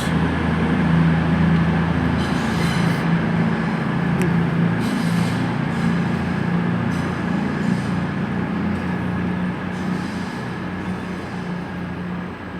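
A Class 800 train, unit 800-029, pulls out of Bristol Temple Meads station with a steady, loud mechanical rumble and hum that fades slightly as it leaves, and a few brief clanks are heard.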